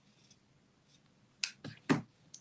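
Scissors trimming card stock and twine during card making, a few crisp snips and clicks scattered over a quiet background, with no talking.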